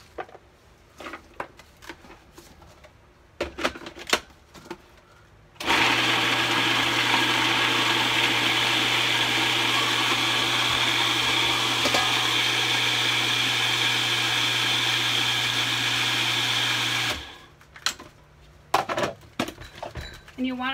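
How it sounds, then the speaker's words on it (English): A food processor chopping fennel pieces and green onions runs as one steady, loud motor whir for about eleven seconds, framed by quieter clatter and handling noises before and after. "I've chopped up the fennel into smaller pieces, and there's also some green onions in there that will get chopped when it processes"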